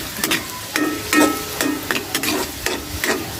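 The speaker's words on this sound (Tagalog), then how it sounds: "Gisa-gisa lang hanggang sa maging brown ang ating bawang" Garlic sautéing in butter in a pan, with repeated stirring strokes scraping through soft sizzling in an uneven rhythm, close and clear with no talk.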